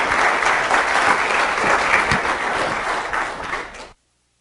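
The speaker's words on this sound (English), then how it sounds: "I love getting applause before I even say anything" An audience at a meeting breaks into steady, full applause that holds for about four seconds and then stops abruptly.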